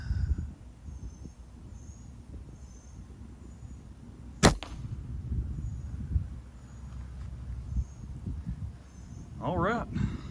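Compound bow fitted with a phone mount shooting an arrow outdoors: one sharp, loud snap-and-thwack rises out of quiet insect and ambient sound, followed by faint rustling.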